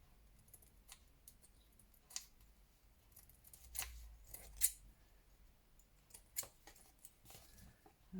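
Scissors snip and trim excess wallpaper during hanging, a scattering of faint, quiet cuts and clicks at irregular intervals with a few sharper snips standing out.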